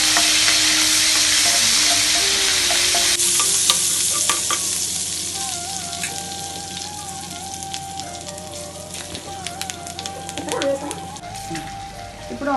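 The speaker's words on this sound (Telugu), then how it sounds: "ముందుగా కట్ చేసి పెట్టుకున్న పచ్చిమిర్చి, కొంచెం కరివేపాకు వేసుకొని కలుపుకోవాలి" Green chillies and curry leaves hit hot oil in a pan with a loud, hissing crackle that stays strong throughout, with occasional stirring clicks over the sizzle.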